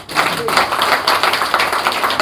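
Audience applause at a press meeting of an SC Commission chairman, a dense continuous patter of clapping hands filling the whole stretch at steady, fairly loud level.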